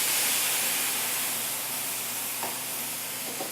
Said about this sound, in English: That wine is going to start to steam up and really steam those veggies